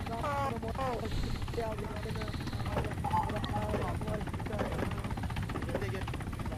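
A helicopter in the Arma 3 video game thrums steadily and fairly loudly throughout, with someone talking over the rotor noise.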